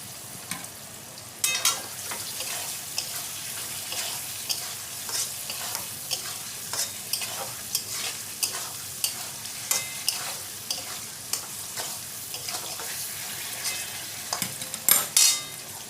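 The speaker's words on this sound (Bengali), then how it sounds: "যে লাল ক্যাপসিকামটা ধুয়ে কুচিয়ে রেখেছি সেটা দিলাম" Chopped red capsicum stir-fries in a pan for egg chicken pasta, a soft continuous sizzle punctuated by regular scraping strokes of a spatula every second or so, with no talk.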